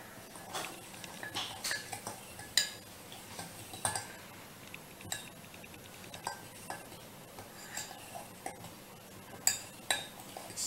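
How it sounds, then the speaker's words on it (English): Mug cake batter being stirred in a mug with a utensil, giving quiet, irregular ticking clinks against the sides over about ten seconds, close and faint with no talk. "And now you have to stir."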